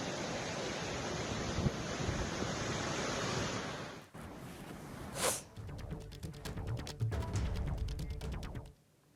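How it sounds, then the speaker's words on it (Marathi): Water released from the Tilari dam rushes into the river during heavy monsoon rain, a loud, dense, steady roar for about four seconds, then a quieter, choppier wash with a few bumps and a brief hiss. "तिलारी नदीमध्येही पाण्याचा विसर्ग सुरू आहे"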